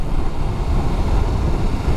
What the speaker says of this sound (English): let's get it in third, get it in the power, and we'll fly past this CRV